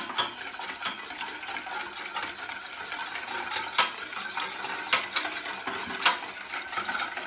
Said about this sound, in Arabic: غنحركو مزيان